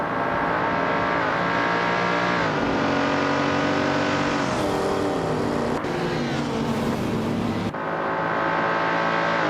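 Race cars in a racing video game, led by a 1963 Porsche 904 Group 3 car, roar continuously with loud engine notes that rise and fall through gear shifts, overlapping whines from several cars sweeping in pitch.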